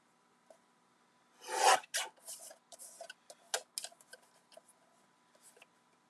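Cardstock trimmed to 5 by 3 3/4 inches for a Halloween haunted forest card: a loud, rasping slice near the start, then a string of shorter scraping and clicking cuts, close and without speech.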